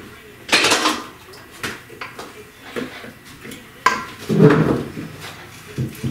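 A spoon mixes Dr. Pepper poke cake with cherries in a bowl, producing close, irregular clinks, knocks and scrapes in bursts separated by quieter pauses.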